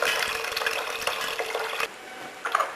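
Water splashes steadily into a cooking pot for tomato rice for a few seconds, a continuous broadband pour that stops abruptly, followed by a few faint drips and clinks.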